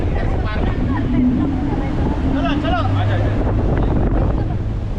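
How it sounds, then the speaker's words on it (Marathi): A boat ride on the sea off Diveagar beach, with the steady rush of wind and water and a low motor rumble carrying throughout, while people talk and call out over it. "आता आपण करतोय बोट राईड"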